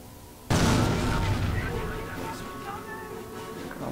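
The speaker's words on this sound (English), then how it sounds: "81mm mortar. Oh, we've already taken a hit." An 81mm mortar and artillery fire in the strategy game Company of Heroes land as a sudden loud boom, followed by a long rolling rumble that slowly fades, with faint metallic ringing in the tail.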